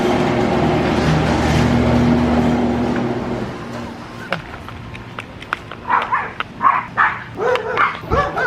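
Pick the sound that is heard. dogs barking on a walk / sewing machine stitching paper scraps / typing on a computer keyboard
dogs barking on a walk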